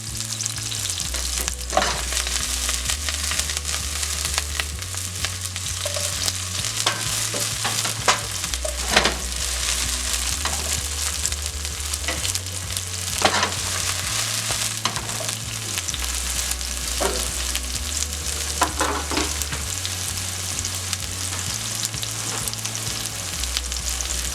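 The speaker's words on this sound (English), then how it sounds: "we're going in with some green scallion and onion." Green scallion and onion fry in a pan for a vegan barbecue chunks dish. A dense, even sizzle is heard close up with occasional stirring clatters, and no voices.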